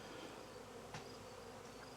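Honey bees from a swarm crawl over a hive's inner cover, making a soft, continuous buzzing hum close by with no voices present.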